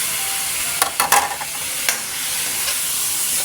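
Shrimp hisses in a pan while being sautéed for ginisang monggo, a soft continuous sizzle with a few quick clicks of stirring utensils in the first two seconds.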